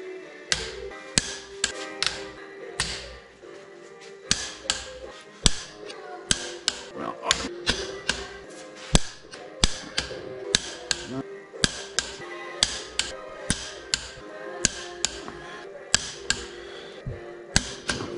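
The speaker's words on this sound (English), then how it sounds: "That snapping noise is the torque wrench, the bolt moving." A torque wrench tightens aftermarket head studs on a Duramax diesel cylinder head, giving repeated sharp snaps and clicks at an uneven rhythm, fairly close, with someone talking intermittently between them.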